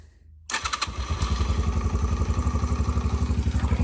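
A cheap used dirt bike engine catching and firing up right away, then settling into a loud, close, rapid rhythmic putter that keeps running steadily.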